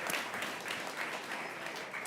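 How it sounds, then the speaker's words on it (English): Audience applause greets the president of the Culinary Institute of America at a food waste event, a steady, dense wash of clapping sustained at even loudness from start to finish. "Big round of applause."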